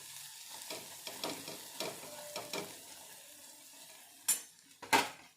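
Coriander seeds go into hot oil for a dahi kadhi tempering: a soft, steady sizzle with scattered light stirring taps, then two sharper clinks of a spoon against the pan near the end.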